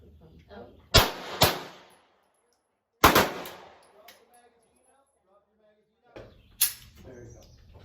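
Gunshots at an outdoor shooting range: four sharp, loud cracks in two pairs with quiet gaps between, each ringing briefly, with faint voices and birds in the background.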